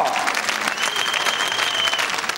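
Warm audience applause at a gala talent show, a full crowd clapping continuously at close range, with a faint tonal ring and murmured voices beneath.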